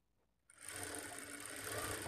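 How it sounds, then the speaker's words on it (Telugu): A sewing machine starts abruptly and stitches blouse fabric in a straight line, a close, steady, whirring hum with fast needle chatter that holds evenly to the end, no voices. "ఈ మార్కింగ్‌కి స్ట్రెయిట్‌గా స్టిచ్ చేసుకోవాలి."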